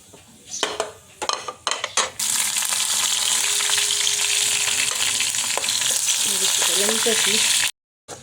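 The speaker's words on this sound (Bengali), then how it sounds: "মরিচ ভাজা হয়ে গেছে," Chilies frying in a pan, a steady loud sizzle under intermittent spoon clatter, preceded by a few sharp utensil knocks and ending abruptly.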